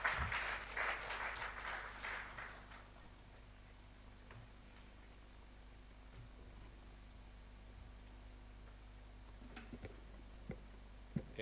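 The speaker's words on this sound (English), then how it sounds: "Please, another round of applause," A conference audience applauds in a brief burst of clapping that dies away after a few seconds into quiet room tone, with a few faint knocks.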